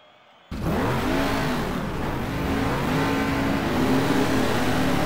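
A De Tomaso Pantera race car in GT Legends roars off the start, its engine revving loud and close as it climbs through the gears amid other cars' engines.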